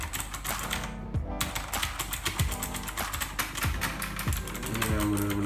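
Fast, crisp typing on a double-injection, anti-ghosting computer keyboard, a dense run of close clicky keystrokes with a few heavier thocks, steady and alone with no talk.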